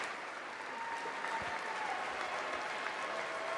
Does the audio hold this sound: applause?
yes